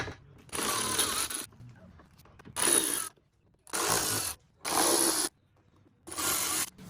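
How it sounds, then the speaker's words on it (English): Torx T20 screws backed out of a part inside the engine bay of a BMW 135i E82 with the N54 engine, heard as five separate bursts of close ratcheting clicks with short quiet gaps between them. "There's 4 Torxes right here that you need to remove."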